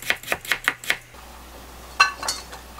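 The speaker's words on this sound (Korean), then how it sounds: "아주 얇게 썰어줄게요." A kitchen knife slices potatoes very thinly on a cutting board, giving five quick, crisp, evenly spaced taps, then a pause and a couple of softer knocks.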